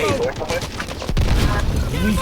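Explosion in the Delta Force: Black Hawk Down shooter game, a loud low rumbling blast erupting midway through, preceded by combat noise and shouted game voices.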